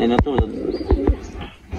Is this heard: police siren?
no